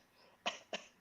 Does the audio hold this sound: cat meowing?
no